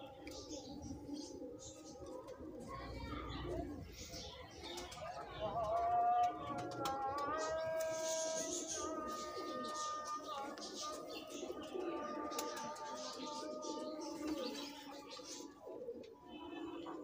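Salety Bichoo breed pigeons coo softly in low, rolling calls, with a person talking intermittently over them and background rustling.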